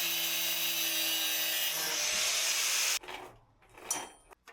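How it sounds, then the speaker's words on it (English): An angle grinder cuts through a stretched old motorcycle chain on a Yamaha Tenere 700, a loud, steady grinding whine lasting about three seconds before cutting off, followed by quieter scraping and clunks. "I used an angle grinder since it was already stretched out and I won't use it"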